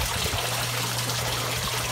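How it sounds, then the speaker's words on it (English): Aquarium water rushing steadily into sock filters in a 4-inch sock filter holder, a loud continuous trickling hiss with a low hum underneath, no talk. "the water flow is still large and in charge, obviously, but it's going into all those sock filters"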